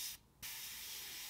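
Steady, fine hiss of an airbrush spraying paint onto model scenery, briefly cut off for a moment before resuming at the same level.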